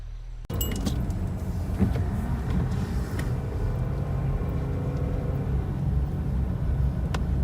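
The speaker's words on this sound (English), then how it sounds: "Just one last look at this bridge before we drive over it." A car rolling over an old bridge among trees, with a steady, loud engine and road rumble throughout and faint rattles and creaks on top.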